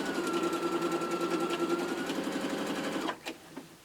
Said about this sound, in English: And then I stitch those last couple stitches.